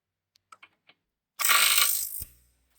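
A Milwaukee power tool removes a strut nut, around 32 mm, from a Volkswagen Jetta: a few faint ticks, then a loud, harsh burst of impact rattling for nearly a second that cuts off abruptly.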